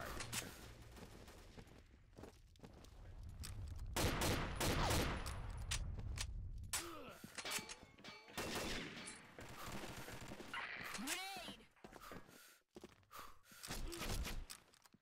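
Gewehr 43 semi-automatic rifle fired in the Combat Arms video game: a series of sharp, loud shots in quick bursts with brief pauses between them, set against game background noise.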